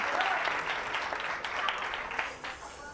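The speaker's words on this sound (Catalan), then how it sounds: "Li fem aplaudiment també" An audience claps on a Catalan TV word-game show, steady dense applause lasting a few seconds before tapering slightly at the end.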